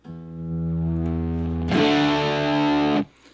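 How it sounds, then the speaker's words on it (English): A sustained electric guitar power chord rings out, then a second strum comes in harsher and buzzier with heavy distortion before being cut off abruptly. "you get that distorted sound now, or more distorted"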